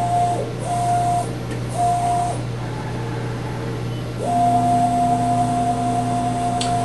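RAM Optical Instrumentation SprintMVP optical measuring machine with 12 by 12 inch travel driving its axes to pick up a touch probe: steady motor whines rising and stopping in short moves over a constant hum, then one long sustained run.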